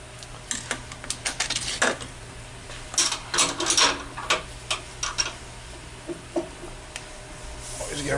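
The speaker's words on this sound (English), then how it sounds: "our counterbore tool" A counterbore tool cutting a valve seat in a GM 4.3 forklift engine, giving irregular clusters of sharp metallic ticking and chattering bursts with brief pauses between passes, fairly close.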